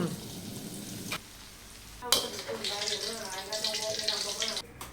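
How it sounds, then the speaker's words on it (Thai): Sliced onions frying in hot oil in a seafood cookout, crackling and sizzling steadily at close range with a sharp clatter at about two seconds as they are stirred, the sizzle growing denser afterward. "เจียวหัวหอม ไว้กินกับห้อยหนังรม"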